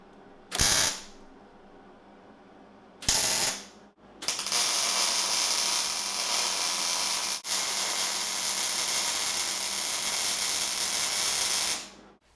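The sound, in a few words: Hobart Handler 140 welder welding 1/8 inch steel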